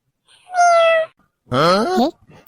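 Two drawn-out, tonal meows from a cat, the first high and even, the second lower and wavering, separated by a short silence and sounding close.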